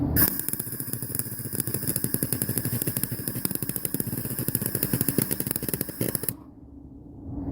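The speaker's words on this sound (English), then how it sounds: "We're going to try to do the welding through the hood this time again." Welding on the A-pillar of a 2003 Cadillac CTS, a close, loud, rapid crackling buzz with a fast steady pulse lasting about six seconds before cutting off, with no talking.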